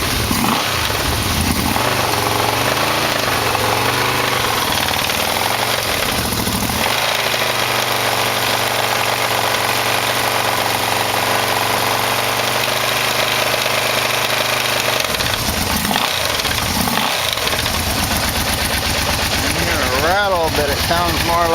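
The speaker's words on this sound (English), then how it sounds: "sound like I got some kind of a little bit of an exhaust leak" A Yamaha V-Max motorcycle engine idles steadily and loudly nearby, with a slight exhaust leak adding a thin metallic rattle to the continuous drone.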